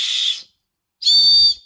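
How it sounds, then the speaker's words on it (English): A small hand whistle is blown twice, two shrill piercing blasts about a second apart, the second one longer and louder, close with silence between. "This is a whistle."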